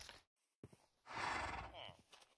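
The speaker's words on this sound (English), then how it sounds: "I can't pet the in-game horse." A horse whinnies in a Minecraft VR horror survival modpack, a loud drawn-out neigh preceded by a short sharp sound and trailed by softer breathy noise, with some speech-like sound mixed in.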